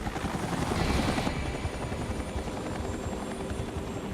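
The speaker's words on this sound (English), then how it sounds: "As helicopters come and go" Helicopter flying low overhead during hurricane rescue operations, a loud continuous thumping rotor roar that stays close throughout, no talk.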